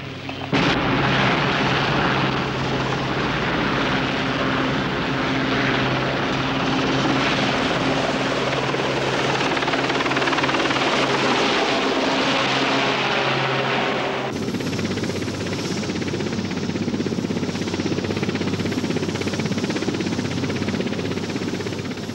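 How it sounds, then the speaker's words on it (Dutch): A military helicopter with the Dutch Marine Corps flies close by, its loud rotor thump and engine roar filling the whole stretch, with a sudden shift in tone partway through; no voices are heard. "Helikopters zijn overal inzetbaar, net als de mensen die ze vervoeren."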